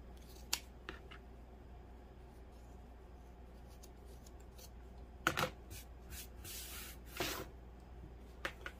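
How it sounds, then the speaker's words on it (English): Scissors snipping through square pieces of fabric, a few quiet isolated cuts with a short run of sharper snips near the middle, close and alone against a faint background. "And I could still cut some of this off."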